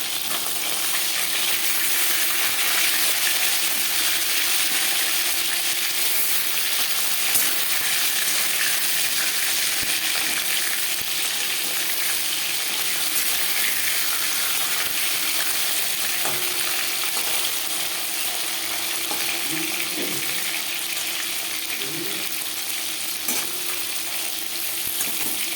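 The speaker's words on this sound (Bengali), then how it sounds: "মাছ ভাজা হয়ে গেছে।" Lata (snakehead) fish frying in a pan of hot oil, a steady broadband sizzle that holds loud and close throughout with occasional faint stirring clicks.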